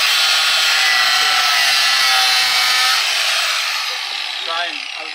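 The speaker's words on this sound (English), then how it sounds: "Boys and their power tools." A power tool running outdoors in a garden on a planting day. It makes a loud, steady, harsh whirring drone that holds for several seconds and then eases off slightly toward the end.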